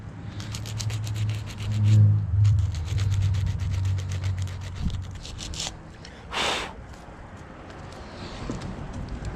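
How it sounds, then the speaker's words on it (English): A corroded starter part from a Willys Jeep being sanded with 80 grit sandpaper, giving close, rhythmic rasping strokes in quick succession that pause briefly midway and then resume, with no talking. "I'm gonna take some 80 grit sandpaper, clean it up a little bit"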